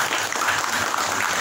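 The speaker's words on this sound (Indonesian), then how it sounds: "Tepuk tangan dan buat kita semua." An audience at a talk claps together in a steady, dense wash of applause that fills the whole moment at an even, moderate loudness, with no voices over it.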